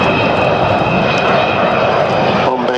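Loud, continuous engine roar of the Avro Vulcan XH558 bomber passing over an airshow crowd at Duxford, a broad rumbling drone with a whining tone, an announcer's voice partly heard beneath it.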